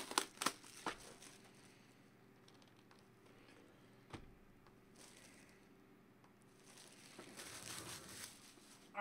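Plastic wrapping crinkles and tears as it is peeled off a pack of trading cards, with sharp close bursts at the start and end and quieter rustling between.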